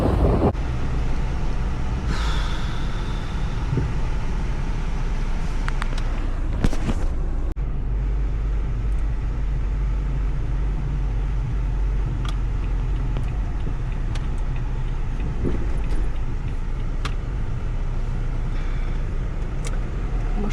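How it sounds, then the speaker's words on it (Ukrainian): Steady road traffic with many cars passing, a continuous broadband roar close by from start to finish, with a few louder vehicle swells and brief rattling clatters near the start. "машин багатенько."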